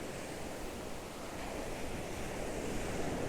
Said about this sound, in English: I'm waiting until the waves come in.